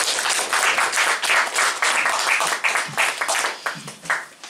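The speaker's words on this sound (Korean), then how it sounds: "우리 이형원 목사님 나오실 때 우리 큰 박수로 우리 환영을 하겠습니다" An audience at a Christian professors' association forum gives a pastor a big round of applause as he comes forward. Dense, loud clapping fills the whole stretch with no talk over it.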